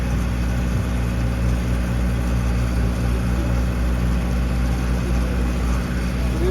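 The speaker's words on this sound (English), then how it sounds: "Can you hear me with the food truck running here?" A food truck engine idles nearby, a steady low, droning rumble that holds even and continuous throughout the stretch without pauses.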